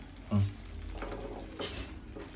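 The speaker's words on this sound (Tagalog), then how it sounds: "Ginigisa ko na nga pala yung manok" Chicken sautéing in a pan gives a soft, steady sizzle with a brief louder clatter near the start, heard close but fairly quiet throughout.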